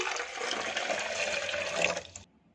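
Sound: water poured into a serving glass for a lychee drink

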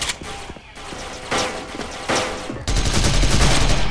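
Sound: gunfire in the video game Special Force

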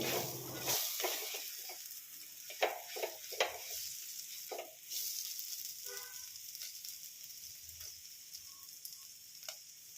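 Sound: clam roast stirred while frying in coconut oil

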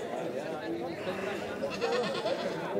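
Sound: goat bleating at a goat market

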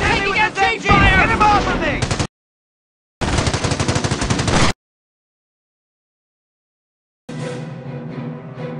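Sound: machine gun fire in the video game Company of Heroes

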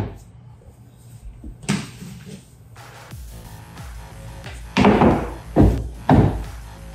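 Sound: doorframe pull-up bar being mounted on door frame

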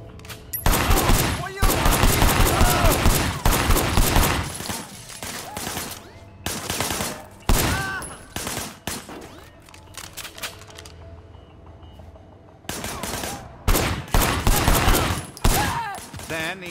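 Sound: gunfire in video game Sleeping Dogs: Definitive Edition

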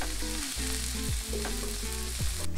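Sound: corn sizzling in hot oiled pan

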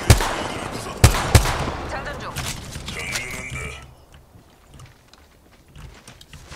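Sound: gunfire in Apex Legends video game

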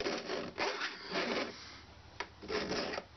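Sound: filing teeth of a two-handed crosscut saw

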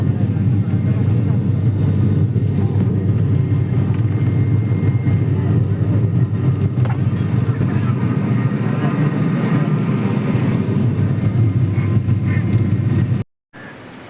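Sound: airplane cabin noise

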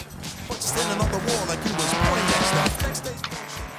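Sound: buggy car driving with tire squeal in Forza Horizon 3 video game

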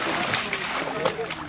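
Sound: dugout canoe crossing the Kaporou river

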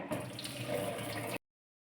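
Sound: water poured off cooked rice from pressure cooker

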